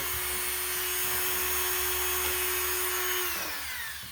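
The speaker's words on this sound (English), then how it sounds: "Get yourself a Dremel tool and do this." A Dremel rotary tool smooths the inside edge of a stainless steel watch band, whining at a steady high pitch up close and then winding down at the end.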